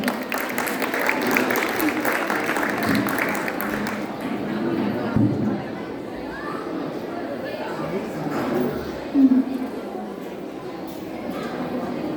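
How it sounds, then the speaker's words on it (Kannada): Audience applause welcoming 4th grade children at a school annual day performance, a steady patter of clapping from a crowd of moderate size, fading and thinning after a few seconds while voices carry on beneath. "ಚಪ್ಪಾಳೆಯೊಂದಿಗೆ ಸ್ವಾಗತಿಸೋಣ, ಬನ್ನಿ."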